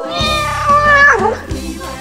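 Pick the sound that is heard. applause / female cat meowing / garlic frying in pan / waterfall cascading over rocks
female cat meowing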